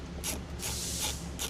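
Screws being tightened down with a ratchet while installing a metal top on a Polaris Ranger 1000 Northstar; three short bursts of close, rapid mechanical clicking with brief pauses between them.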